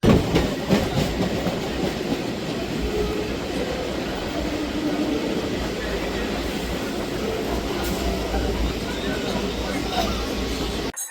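Local commuter train running out of Sealdah station toward Sonarpur, heard from on board as a steady loud rumble with rhythmic clickety-clack of wheels, with voices in the background.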